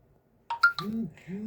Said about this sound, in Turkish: telefonuma kim mesaj attı şimdi bu saatte?